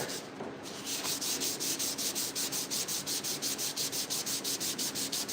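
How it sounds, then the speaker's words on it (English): Dry sanding with 400 grit sandpaper on a 1968 Fender, rubbing back and forth in a steady rhythm of quick, scratchy strokes, close and continuous, with no voices. "So we're sanding in 400 dry."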